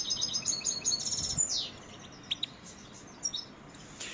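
Pet birds kept indoors chirp and tweet in quick high bursts, a rapid run at first, then scattered single calls, moderately near and fairly quiet, with no voices.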